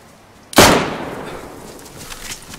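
A single sharp gunshot in the video game DayZ on the Namalsk map, loud and close, with a long echoing tail fading over the next couple of seconds.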